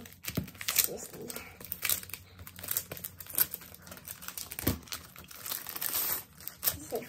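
Fan club membership kit packaging being torn and crinkled open by hand, with repeated close crackling rips and rustles in bursts, under intermittent talk.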